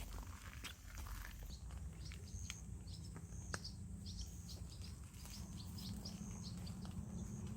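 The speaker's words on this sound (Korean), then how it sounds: "또 새들이 반겨주네 많은 새들이 강가에 나와 있네" Faint bird chirps and tweets are scattered over a steady outdoor rumble by a river with a stony bank, with occasional soft footsteps.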